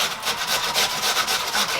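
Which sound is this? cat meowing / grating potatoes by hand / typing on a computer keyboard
grating potatoes by hand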